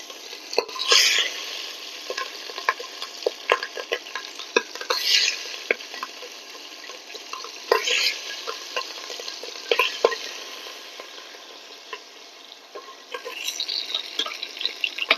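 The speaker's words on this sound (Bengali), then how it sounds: "আমি লবণ হলুদ মাখা মাছগুলো আস্তে আস্তে তেলের মধ্যে দিয়ে দিলাম।" Salted, turmeric-rubbed hilsa fish pieces fry in mustard oil, a loud close sizzle broken by repeated stirring scrapes and clinks throughout, with no speech.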